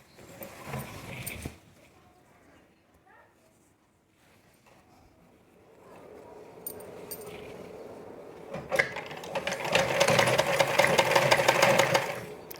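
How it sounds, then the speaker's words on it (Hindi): A sewing machine runs a line of stitching along the button area of an umbrella-cut kurti, starting with a brief burst, then a quiet lull, then a steady, louder mechanical whir that builds and holds near the end. "इसी पे एक सिलाई चला देना है"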